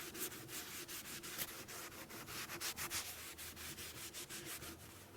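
Rhythmic rubbing strokes of a cloth scrubbing a dirty, corroded cast aluminum part from a Mercedes 300SEL 6.3, quiet and close, repeating steadily throughout.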